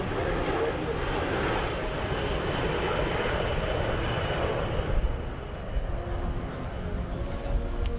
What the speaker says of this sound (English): Captain Spencer Boone and Captain Josh Bola, demonstrate how maneuverable this aircraft is as they put it into a sharp bank and to what is called an air radius turn